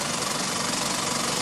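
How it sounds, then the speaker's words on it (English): An older-style Meccano model engine runs with a steady, even, hissing whir, faint and continuous throughout with no pauses. "This is the older style Mamard made Meccano engine"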